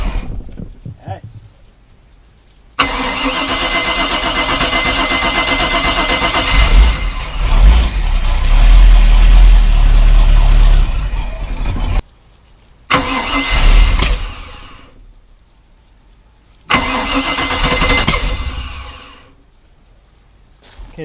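A rebuilt Chevy 350 engine in a Regal cuddy cabin boat cranks and fires, runs roughly with loud bangs and backfires, cuts out, then restarts twice in short bursts.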